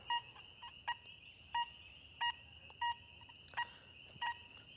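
An XP Deus II metal detector sounds over a large cent coin with about seven short, bright, evenly spaced beeps above a faint, steady tone. The beeps are clear and close, with no talking.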